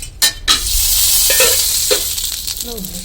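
A hot pan hisses and sizzles where a little tea spilled on it while making a tea omelette for breakfast, a steady broadband crackle running throughout with a few brief clicks and clatters.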